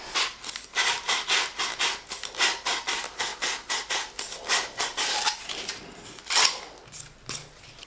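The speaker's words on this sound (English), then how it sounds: "I like to use a bit of sandpaper. Just smooth it off, put a tiny little chamfer on that piece of pipe there." Sandpaper rubbed back and forth over the cut edge of a plastic waste pipe offcut to form a small chamfer: a close, rhythmic rasping in quick regular strokes, ending in a few slower, louder scrapes.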